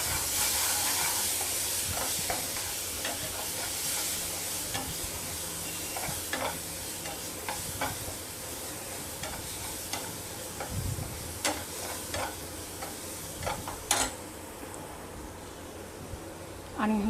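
Mango pulp being stirred into cooking mango sheera in a pan, with soft scraping strokes and a gentle sizzle under faint background noise, broken by occasional clicks and taps.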